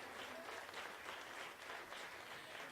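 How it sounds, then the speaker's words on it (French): Audience applause at a local arts showcase evening, steady broadband clapping from a crowd, faint and distant, sustained without pause for a few seconds. "On les applaudit aussi."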